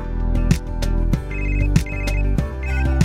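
A mobile phone ringtone for an incoming call plays loudly and alone, a bright electronic melody that repeats in short phrases about every second with a steady rhythm.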